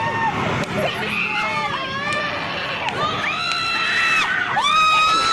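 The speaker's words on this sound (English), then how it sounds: "they actually screaming, bro, like they screaming" A live crowd at a performance on the Wish 107.5 Bus screams loudly and continuously, with high-pitched cheers and shrieks rising and falling in dense overlapping waves.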